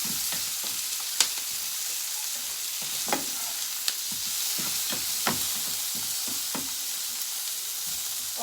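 Vegetables fry in a pan for an American-style breakfast, a constant close sizzle broken by regular scraping knocks of a utensil as they are stirred.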